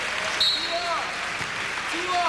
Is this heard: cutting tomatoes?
no